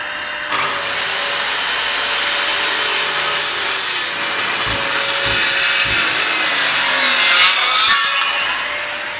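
Corded circular saw cutting wood, loud and close: a steady high whine under load for about seven seconds, then it spins down at the end.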